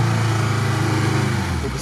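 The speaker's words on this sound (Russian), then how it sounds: "Вроде мотор нормально заработал, да?" Engine of a Lada Niva running steadily during an off-road drive on a rough tank road, a continuous low droning hum that stays loud and close throughout the short stretch.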